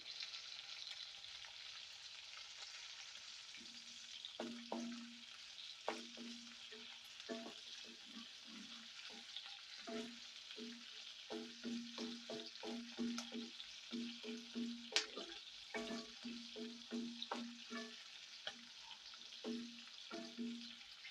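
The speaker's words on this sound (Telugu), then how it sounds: "ఇప్పుడు ఇవి వేగేటప్పుడే ఇందులో మనం ఒక టేబుల్ స్పూను ధనియాలు అయితే వేసుకున్నామండి" Green chillies and coriander seeds fry in a pan, giving a steady crackling sizzle with repeated stirring scrapes and clinks across the whole stretch, close and moderately loud with no talk.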